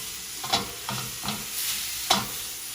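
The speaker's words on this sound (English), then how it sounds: "I'm just going to take the ramen noodles and then mix them in with the candy corn" Ramen noodles are stirred into melted candy corn in a pan with the heat off, making four or five sticky scraping strokes over a soft background hiss.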